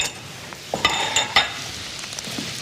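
Fish jeon simmers in a pan, a soft continuous bubbling with a few sharp clinks and sizzling bursts near the start.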